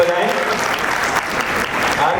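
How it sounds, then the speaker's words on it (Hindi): A crowd claps at a college event stage, a brief, loud burst of steady applause filling the hall throughout with no break. "एक बार जोरदार तालियां बजाएं"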